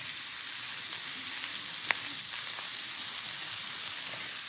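Steady, hissing sizzle of meatballs frying in hot oil in a pot, continuous and fairly close, with a faint clink partway through.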